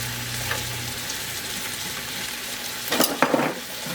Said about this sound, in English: I'm going to put about a half a teaspoon of butter on each lamb steak